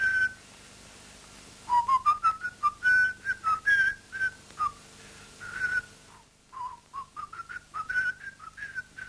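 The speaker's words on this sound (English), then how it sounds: "even the whistling of the Peer Gynt theme was redone, and poorly at that." A person whistles the Peer Gynt theme alone in short phrases of rising and falling notes, with small pauses between phrases, clear and close.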